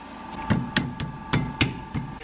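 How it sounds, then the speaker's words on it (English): A brake caliper being slid into place on a VW T4 Transporter during a Porsche 996 brake upgrade: six or seven sharp, close metallic knocks at irregular intervals over a faint background hum. "I'm now going to slide the caliper on in place."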